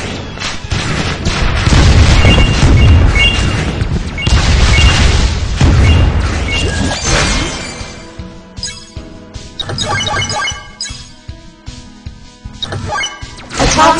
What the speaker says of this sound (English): Electric missile.